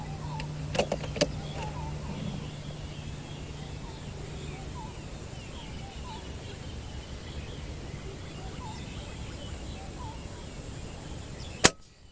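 FX Impact MkII air rifle with a 700mm STX liner firing 23-grain .217 slugs, heard as one sharp, close crack near the end over a low steady background, with a few faint clicks earlier.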